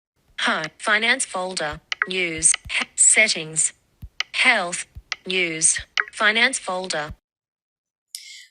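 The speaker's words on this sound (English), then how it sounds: "As I swipe between apps, VoiceOver makes a clicking sound like this." Short, crisp iOS VoiceOver clicks on an iPhone home screen, one at each swipe between apps, tucked between a synthetic voice reading out app names; a final faint tick sounds alone after the speech stops.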